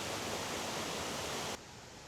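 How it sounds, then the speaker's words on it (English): Water pours over the upper falls of a mill stream, a dense, steady rush heard up close that drops suddenly to a softer wash near the end. "We're now standing below the upper falls."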